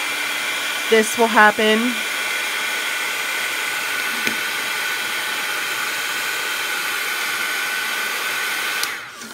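Steady hair dryer blowing close and loud over Pilot Frixion pen ink for the whole stretch, with a short burst of speech near the start.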